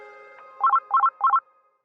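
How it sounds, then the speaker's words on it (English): A mobile phone rings in three short repeated bursts of a bright electronic melody, each burst about a fifth of a second apart, fairly close and clear with no talking. "I'm woken up late the next morning by my phone ringing."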